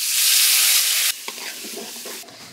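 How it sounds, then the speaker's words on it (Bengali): Onion, garlic and cumin paste sautéing in a hot pan, a loud close hiss at first that drops suddenly into softer sizzling broken by scraping stir strokes. "মশলা কষানো হয়েছে"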